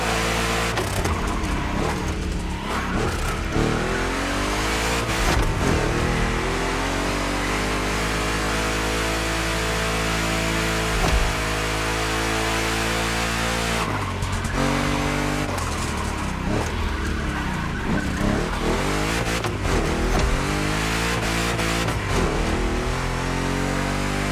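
Two Chevy big-block race cars in The Crew Motorfest roar through a gymkhana race, with sustained loud engine drones, rising and falling revs, gear changes and brief tire squeals across the whole stretch, no voices.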